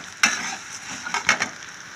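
Coriander seeds fry in hot oil alongside urad dal for a curry-leaf spice powder, a close steady sizzle punctuated by crackling bursts and stirring scrapes.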